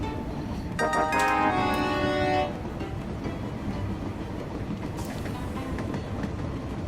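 Trains running on rails in the Train Valley video game, a steady rumbling track noise with a bright bell-like chime swelling near the start, then continuous low clatter, no voices.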